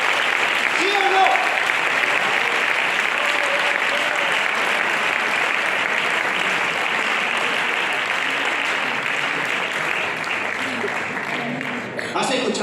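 Sustained applause from a church congregation, dense and steady clapping that holds for the whole stretch before tapering slightly at the end.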